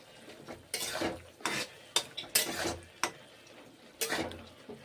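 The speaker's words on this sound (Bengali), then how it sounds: "এইভাবে নেড়ে চেড়ে নিচ্ছি" Bottle gourd curry with toasted sesame seeds stirred in a pan, giving several separate scraping and clinking strokes with short pauses between them, fairly close and moderately loud, with no voices.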